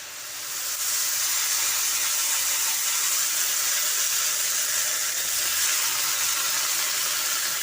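Water poured into rice frying in a pan for sweet Basanti pulao, setting off a loud, even sizzle and steaming hiss that swells within the first second and then holds steady throughout.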